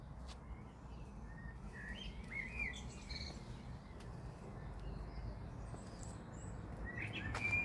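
A blackbird sings scattered, fluting night-song phrases at a distance at sunset in a garden, over a low background rumble, faint and unhurried, with no voices.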